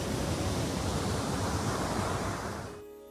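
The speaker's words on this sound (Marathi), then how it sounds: "मंदिराजवळचा हा वॉटरफॉल आहे" A waterfall beside a temple in Rajapur, Konkan, roars as a loud, dense, steady rush of falling water close by, then fades away in the final moments.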